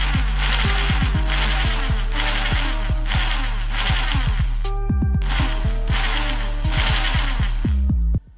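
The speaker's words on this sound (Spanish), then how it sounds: "se trata simplemente de darle al taladro, yendo más bien despacito, y darle vueltas a un hilo sobre el otro." An electric drill turns slowly to twist one resistance wire around another, giving a steady motor whir with repeated rising and falling pitch sweeps, close and loud, stopping abruptly at the end.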